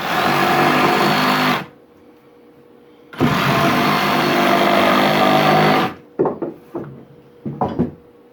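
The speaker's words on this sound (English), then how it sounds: "you finish it up with a sawzall" A Sawzall reciprocating saw finishing a cut while building a raised garden bed: two loud, close, buzzing bursts of sawing separated by a pause, followed by several knocks and clunks.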